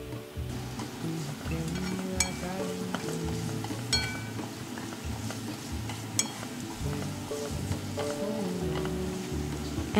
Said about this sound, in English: Then give it a good mix.